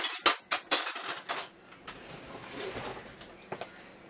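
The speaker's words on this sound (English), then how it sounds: "I'll take this nice big spoon right here and put the stuffing back" A big metal spoon clanks and scrapes against a dish while stuffing is packed back into a Thanksgiving turkey, several sharp close clinks up front, then softer shuffling and two faint taps.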